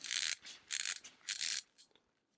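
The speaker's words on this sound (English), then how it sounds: "I'll hold that up to my microphone so you can hear the ratcheting" Three quick bursts of dense clicking from a fine 72-tooth 3/8-inch drive socket ratchet, close by, each about a third of a second, followed by a few softer clicks before silence.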